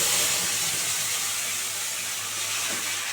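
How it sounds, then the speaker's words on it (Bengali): Ground spice paste hits frying onions in a pan for an aar fish curry, giving a loud, steady, close sizzle that hisses unbroken throughout with no voices. "এই যে মিক্সিটা বাটা মশলাটা দিয়ে দিলাম"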